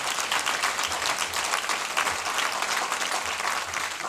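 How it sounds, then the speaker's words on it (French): Audience applauding at the mayor of Roquefort-La Bédoule's New Year wishes ceremony, a loud, sustained, dense clapping from a large crowd that stays even throughout, with no talk over it. "Vous pouvez l'applaudir"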